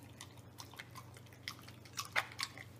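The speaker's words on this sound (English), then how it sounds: "You're really crunching." Mastiff puppy crunching raw food, with irregular soft chewing and biting crunches that grow a little louder toward the end, set against a steady low hum.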